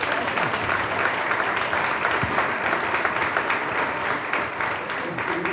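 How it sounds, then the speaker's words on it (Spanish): Steady applause from an audience at a cultural autumn season presentation, continuous and fairly loud throughout, with crowd murmur beneath. "Esto es un aplauso o algo,"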